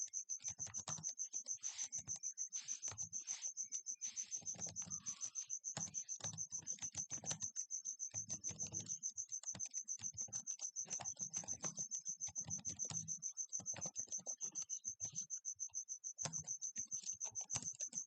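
Typing Java code on a computer keyboard, a steady patter of key presses running through the whole stretch with short pauses, fairly close and quiet, over a constant high-pitched background whine.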